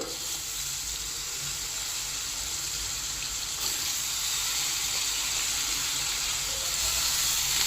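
Sliced onions fry with turmeric and salt in a pan, a steady bright hissing sizzle that holds evenly and grows slightly louder, close up with no talking.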